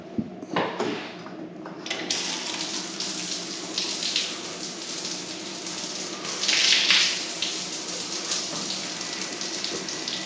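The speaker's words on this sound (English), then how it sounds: "2 different shower heads." Water runs steadily from a shower head in a park family restroom at Stephen F Austin State Park, a continuous hiss with a brief louder surge midway, no talking.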